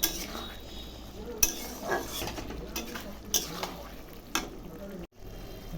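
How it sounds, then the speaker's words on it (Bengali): Fried potatoes stirred in a pot for Bengali banana flower curry (mochar ghonto), a spoon scraping and clinking against metal in irregular strokes over a faint sizzle, with a voice speaking nearby. "আলুগুলো এখন দিয়ে দেবো, ভাজা আলুগুলো একটু কষিয়ে নেব"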